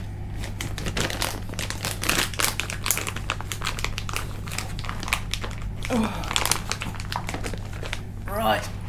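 A plastic treat packet is crinkled and pulled at while someone tries to open it, giving repeated crackling bursts over a steady low hum, with a brief spoken exclamation partway through.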